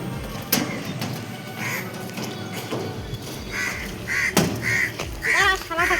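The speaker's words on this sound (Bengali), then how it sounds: "হ্যাঁ, কাকগুলো কাকা করে যাচ্ছে।" Several crows caw in repeated harsh bursts around a house, some near and loud, others farther off, with a few knocks and background noise between the calls.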